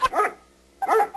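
A dog barking nearby, two sharp separate barks with a short pause between them.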